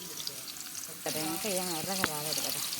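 Onions fry in a pan outdoors under a tree for Nellore-style natu kodi biryani, a steady close sizzle that continues beneath a voice speaking through the second half.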